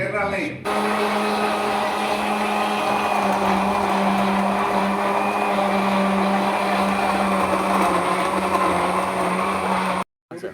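An electric grinder blends garlic and ginger with a little water into a paste. Its steady, loud motor whine runs for about ten seconds before stopping abruptly, and voices are faintly present around it.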